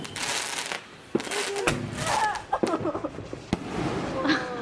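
Homemade fireworks go off outdoors as a string of sharp pops and crackling bursts at close range, mixed with excited voices talking over them.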